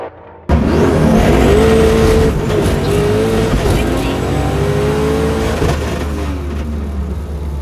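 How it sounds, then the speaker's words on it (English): A loud drag race car with a new Holley setup roars as it launches, the revving pitch climbing and shifting, a powerful sustained blast that stays loud throughout. "Had a really good launch. Had a really good race with Alex"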